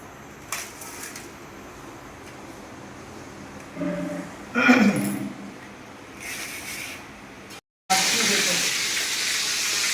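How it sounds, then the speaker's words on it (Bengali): Pomfret fish sizzling in hot oil, a steady hiss with brief louder spatters, under faint intermittent voices and clatter, ending in a sudden louder burst of frying. "আমি এখন পমফ্রেট মাছ ভাজছি"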